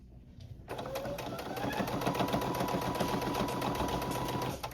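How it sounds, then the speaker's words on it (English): Sewing machine stitching athletic jacket fabric, a continuous fast rhythmic needle clatter that starts abruptly and runs for about four seconds, close and loud. "I'm gonna go to my sewing machine and just do a stitch all the way around to close that together right here"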